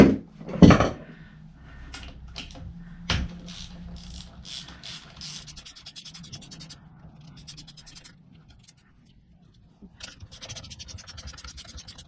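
A ratchet clicks in short runs while bolts come off a Kawasaki W1 motorcycle, with a sharp metallic knock near the start and quieter scratching and handling sounds between.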